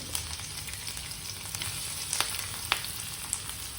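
A little onion frying in hot oil makes a steady, close hiss and crackle, with occasional faint spoon taps and light spatter pops.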